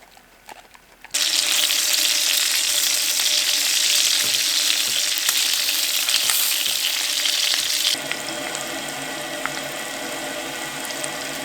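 Bacon and eggs for breakfast start frying in a pan at a snowy hot-tent camp: after a quiet start a loud, close, steady sizzle bursts in and holds, easing slightly to a softer crackle toward the end, no talking.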